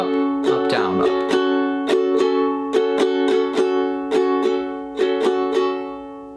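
Repeated ukulele strumming in a down, down, up, up, down, up pattern, a steady bright rhythm of crisp strokes over sustained chords, played alone and close.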